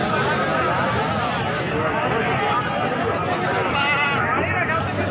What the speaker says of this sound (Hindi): ये जनाब भाई को माशाल्लाह बकरा खड़ा है